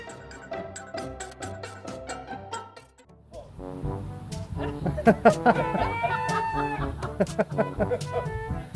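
A rooster crows and chickens cluck over a busy background, calls repeating irregularly and growing louder partway through.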